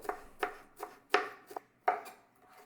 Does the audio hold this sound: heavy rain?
no